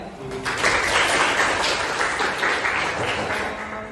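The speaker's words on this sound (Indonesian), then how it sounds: "tepuk tangan ya" A short burst of group applause, moderately loud, with some voices mixed in beneath the clapping.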